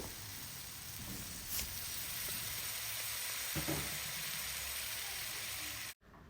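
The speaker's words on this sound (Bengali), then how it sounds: "এর মধ্যে পরিমাণ মতো একটু পানি দিয়ে দিব" Water is added to frying onion spice paste in a pan, giving a loud, continuous sizzling hiss with occasional stirring scrapes that stops abruptly just before the end.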